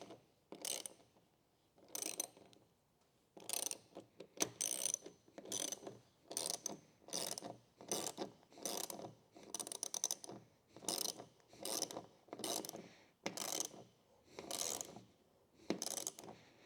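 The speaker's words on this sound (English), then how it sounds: "now we're going to take our 13mm socket and we're just going to start ratcheting these down" A 13mm socket ratchet tightens roof rack bolts on a fifth-generation Toyota 4Runner, giving a steady series of a dozen or more rasping ratchet strokes. Each burst of clicking is close and moderately loud, separated by brief pauses.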